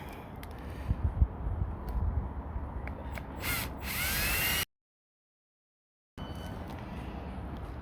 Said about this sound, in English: I'm going to drill my pilot hole in through the top